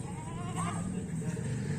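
Goats on a farm bleat in a wavering, drawn-out call, heard over steady background noise and a murmur of voices nearby.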